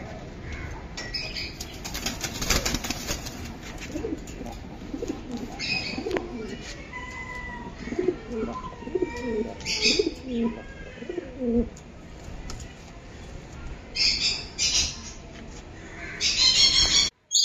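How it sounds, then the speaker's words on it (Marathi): A Buga-breed pigeon coos in low repeated bursts while wings flap and clatter close by, with a few brief chirps and light background noise. "हा एक कबूतर आहे"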